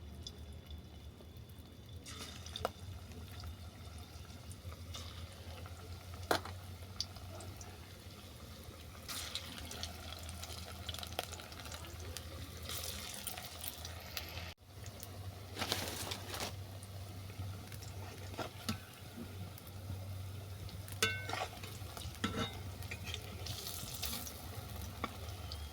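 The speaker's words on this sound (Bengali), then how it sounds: "তেল গরম হয়ে গেছে, এরপর পকোড়াগুলো আমি ভেজে নেব" Apple pakoras frying in hot oil, a steady low sizzle running throughout with occasional sharp pops and brief clinks as pieces are moved.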